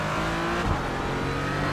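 A Porsche Cayman GT4 engine in the iRacing sim at Laguna Seca, pulling hard out of a corner with a steady loud drone and a brief gear shift blip midway, no talk over it.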